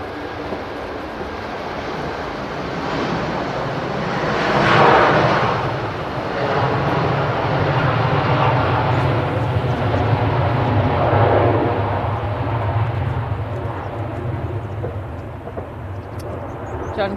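A Virgin airliner moves at Manchester Airport, its rumbling jet roar swelling twice as it passes, with occasional voices in the background.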